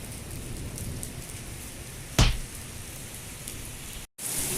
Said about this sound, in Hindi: ये देखिए व्यूअर्स, मक्का मुकर्रमा में कितनी तेज़ धुआंधार बारिश हो रही है